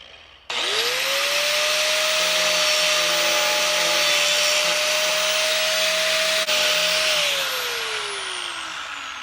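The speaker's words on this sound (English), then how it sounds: "I'm going to grind a little bit of clearance on that one and on the other end to make a little more clearance" A power grinder works on a welded exhaust manifold to open clearance for the studs, a steady loud whine that spins up, holds for several seconds under load, then winds down, heard alone.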